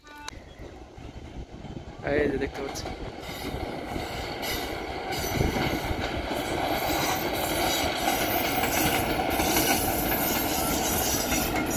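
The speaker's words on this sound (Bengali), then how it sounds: "দেখতে পাচ্ছেন ট্রেন আসতেছে" A train pulls into a railway station, its rumbling and clattering rising and holding loud and steady as it passes close by, with a person talking over it.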